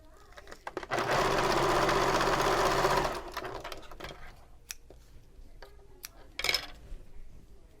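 A sewing machine stitches fabric pieces for a convertible bag in a loud, steady two-second run, followed by quieter clicks and handling noises.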